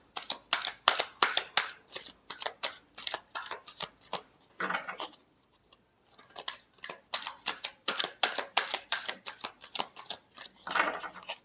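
Tarot cards are shuffled in quick, crisp riffling bursts, a rapid papery flutter repeated many times close to the mic, with one short pause partway through.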